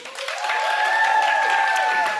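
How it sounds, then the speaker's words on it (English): An in-person audience at a book club event claps, cheers and snaps together, a sustained round of applause with whooping tones riding over it for about two seconds. "that clap and cheer and snap was not that energizing"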